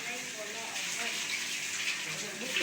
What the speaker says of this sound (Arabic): انا بشطح تحت وبرجع اسلط الميه اللي انتوا شايفين كده